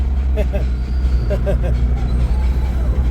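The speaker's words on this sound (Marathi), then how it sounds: "आपण गाडी लोड करून निघालेलो आहे बघा" A loaded vehicle driving along a highway, a steady low engine and road rumble close by, with a few short honks over it and voices talking.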